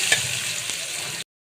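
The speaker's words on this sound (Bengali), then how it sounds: "এখন আমি আলুগুলো আগে একটু ভেজে নিব।" Potato pieces fry in hot oil seasoned with turmeric powder, giving a steady, close hiss with a faint clink near the start. The sizzle then cuts off abruptly.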